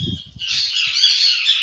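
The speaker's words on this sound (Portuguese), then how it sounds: "Hoje é esses passarinhos que decidiram gritar aqui no meu ouvido." Small birds squawk loudly and harshly close to the microphone in a continuous shrill burst. A brief low murmur is heard at the start.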